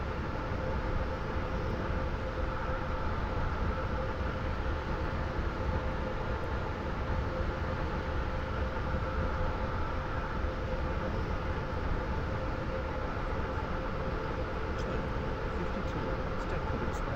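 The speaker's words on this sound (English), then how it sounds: "This train is now approaching Leighton Stepford Road." Train running in the Roblox Stepford County game, a continuous steady rumbling drone with a faint tonal hum, unchanging and close for the whole stretch.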